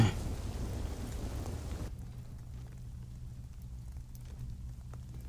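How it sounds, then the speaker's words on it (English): Storm ambience in The Cycle Frontier, a steady roar of rain that drops to a quieter, low rumbling wash after the first two seconds, with no distinct thunder crack and no voices. "It's just really bad time with the storm."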